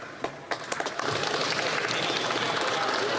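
Members of the House of Commons applaud in the chamber, starting with a few scattered claps that quickly build into sustained, dense clapping.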